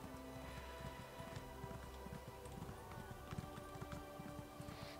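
Horse hooves clip-clopping in the Elder Scrolls Online video game as a new horse trots around Khenarthi's Roost, a quick steady patter of hoofbeats at low volume over ambient game sound.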